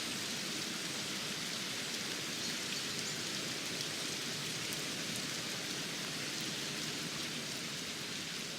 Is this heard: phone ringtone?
no